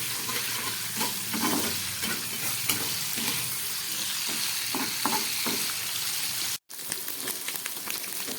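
Steady crackling sizzle of paneer frying in hot oil with cardamom, cloves, cinnamon and garam masala, with scraping stir sounds throughout and a brief silent gap near the end.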